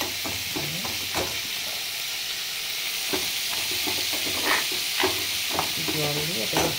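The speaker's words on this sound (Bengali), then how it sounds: "এদিকে মুগ ডালটাও ভেজে নিচ্ছি" Mung dal fries in leftover oil in a karai, with a steady hiss of sizzling under repeated scraping strokes of a spatula stirring the lentils, loud and close.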